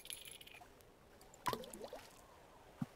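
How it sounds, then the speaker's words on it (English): An object drops into water in the Townscaper town-building game: a short splash and gurgle, then a smaller plop a moment later, soft and quiet over a faint background. "Did something fall into water?"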